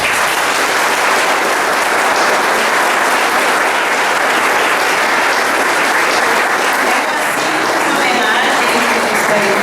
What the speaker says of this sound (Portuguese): uma salva de palmas para si